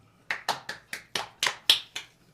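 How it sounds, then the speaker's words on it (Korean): A handful of people clap in a slow, uneven burst of about eight sharp, close claps in a quiet room, ahead of a Doosan Bears baseball review chat. "박수."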